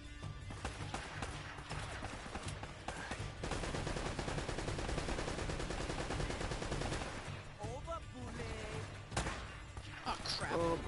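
Rapid in-game gunfire in Uncharted: Drake's Fortune rattles steadily as explosive barrels are shot, followed by bursts of blasts and debris, with a player's voice talking in brief moments over the loud combat.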